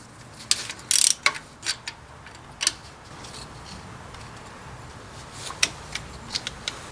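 Socket ratchet loosening a nut on a Dodge Ram engine during water pump work, scattered sharp clicks and short ratcheting bursts over quiet background, close by.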